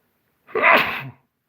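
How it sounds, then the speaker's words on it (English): One loud, close sneeze with a sharp burst and a brief trailing release, on its own with no talking. "hang on, I might have to sneeze here."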